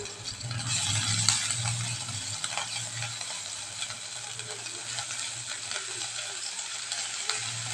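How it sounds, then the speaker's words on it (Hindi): Green chili and grated ginger frying with cumin in a pan, a soft continuous sizzle with faint stirring scrapes, close and steady throughout. "इसे हम थोड़ा सा भून लेंगे।"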